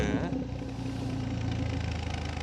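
A 2023 BMW 320i idles on its stock exhaust, a steady, close low-pitched hum with a faint rhythmic throb, after a brief higher-pitched sound at the start.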